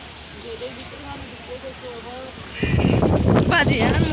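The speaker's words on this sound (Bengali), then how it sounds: "বাতাসের কি স্পিড" Strong wind battering a microphone outdoors in front of a house, a faint tonal voice-like sound at first, then a sudden loud broadband roar and buffeting that fills the second half.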